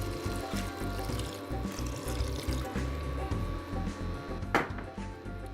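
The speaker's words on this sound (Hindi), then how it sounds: "हम डालते हैं थोड़ा पानी" Water is poured into a cooking pan of cooked spices and yogurt, a continuous loud splashing and sizzling pour that runs steadily throughout, close up.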